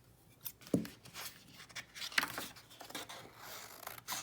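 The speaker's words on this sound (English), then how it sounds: "I'm now going to cut them out." Scissors snip around paper leaf rubbings, a few short close crisp cuts and soft paper rustles in a quiet room.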